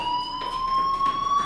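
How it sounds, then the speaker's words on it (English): School fire alarm ringing in Life is Strange, a continuous steady electronic tone with faint pulsing, heard alone. "do you hear that fire alarm?"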